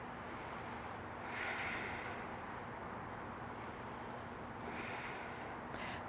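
Deep, slow yoga breaths pass through the nose in faint, airy inhales and exhales, a few unhurried cycles in a quiet room with no voices.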